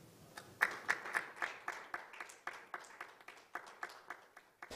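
Scattered applause from an online forum audience welcoming a KOICA executive as congratulatory speaker at a youth peace and UN SDGs session; a few sparse, fairly quiet claps in an irregular rhythm, thin rather than a full crowd.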